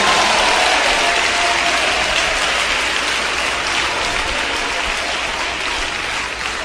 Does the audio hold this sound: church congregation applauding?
yes